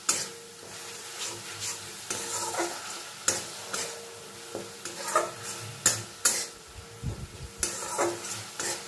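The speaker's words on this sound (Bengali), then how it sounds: "আদা বাটাটা দিয়েও আমি পেঁয়াজ রসুনের সঙ্গে খুব ভালো করে কষিয়ে নেব যতক্ষণ না আদার কাঁচা গন্ধ চলে যায়" Ginger paste sautéed with onion and garlic in a pan, with a spoon stirring and scraping in irregular strokes over a steady frying sizzle, heard up close and alone.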